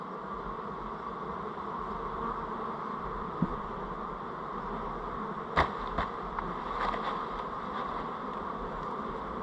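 Honey bees leaving an open hive during a varroa check keep up a steady, dense buzzing drone close by, with a few faint knocks and clicks over it.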